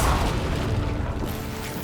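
An Incendio fire spell in Hogwarts Legacy bursts as a short, dense, booming whoosh of flame, loud and close, and tails off within two seconds.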